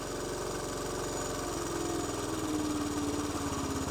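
Honda CT110 motorcycle single engine idles steadily at close range after a carburetor idle adjustment, a low even putter with a faint rising whine partway through, no voices.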